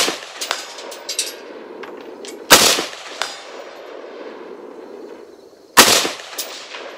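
Two sharp, loud rifle shots fired at a shooting range from a rifle fitted with MEPRO FRBS iron sights, spaced about three seconds apart, each with a short echoing tail over a steady outdoor background.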